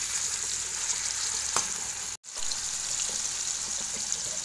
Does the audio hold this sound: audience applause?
no